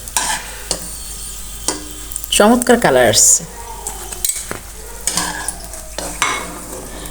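Cauliflower pieces frying in hot oil, a steady sizzle broken by several scraping and clinking stirs of a utensil against the pan, with a person speaking briefly near the end.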